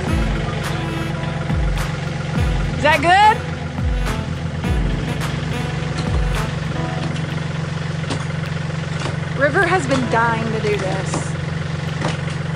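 A tractor engine idles steadily at a low, even throb throughout, close by, while people talk over it during a building demolition at a mansion.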